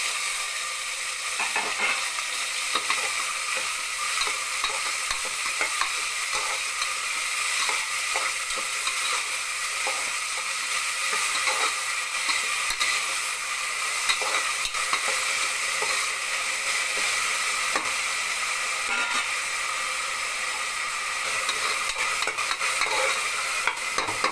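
Thinly sliced tomatoes sautéing in a pan for prawn biryani make a steady, even sizzle that lasts throughout, with faint stirring scrapes over it and no talking.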